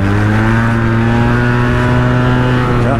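Yamaha TMAX twin-cylinder scooter engine of about 40 horsepower pulls under acceleration, a loud steady droning hum with a gently rising pitch that lasts the whole stretch, heard up close without talk.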